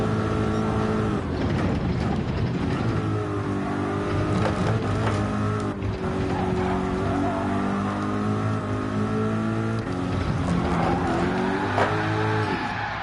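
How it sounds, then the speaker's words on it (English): A race car's engine revs in a racing game, loud and continuous, its pitch climbing and dropping through gear changes with a few sharp shifts and no talk. "I gotta remember not to rev this thing up. Except for in 5th. This thing does not like 6th gear at all."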